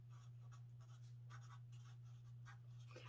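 A permanent marker squeaks and scratches across a surface in short strokes and taps, quiet and close, over a steady low electrical hum with no talking.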